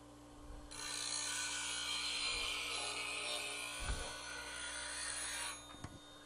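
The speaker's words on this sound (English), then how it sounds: "You're sharpening the edge." Knife edge pressed against a sharpening wheel, a continuous bright grinding hiss lasting about five seconds, close and steady, with faint thumps beneath.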